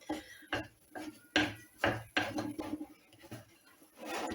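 Chocolate crinkle dough stirred in a bowl, giving a run of close, irregular scraping knocks and soft thuds about every half second, with a wetter, steadier scrape toward the end.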